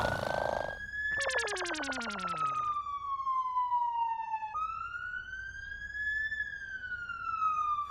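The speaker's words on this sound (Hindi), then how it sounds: "अरे मेरे फोन का रिंगटोन है भाई" An electronic siren-like phone ringtone wails, first a fast warbling trill, then slow rising and falling sweeps, loud and continuous with no voices.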